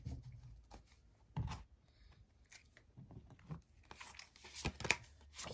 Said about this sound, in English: let's continue to shuffle the tarot